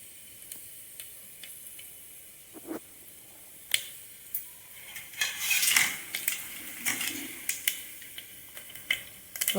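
Two chopped onions go into a pan of hot tempering oil for a bottle gourd dish, and the sizzle swells midway while a utensil stirs with scattered sharp clicks and taps against the pan.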